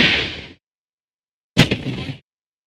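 An armored vehicle in a video game destroyed by a single shot: a sharp, loud blast that fades quickly, then after a pause a second heavy bang with a short rumbling tail, and no voices.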